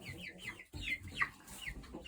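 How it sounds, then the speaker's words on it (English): Several chickens cluck softly in a coop, a few close, faint rising calls and short clucks overlapping across a couple of seconds with no talking. "Here we have our chickens."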